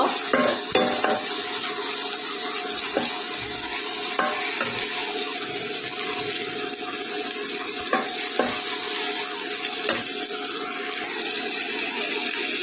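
Steady sizzling of turmeric and red chilli powder frying in a pan with repeated scraping strokes of a utensil stirring, close and continuous.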